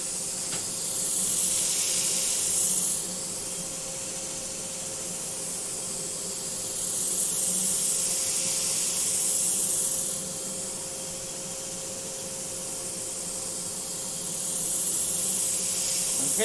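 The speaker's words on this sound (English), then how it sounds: "Just starting with an 80 grit to flatten that back off." A sander with 80 grit paper flattens a wooden surface, a steady hiss swelling into three louder passes at regular intervals over a constant low motor hum.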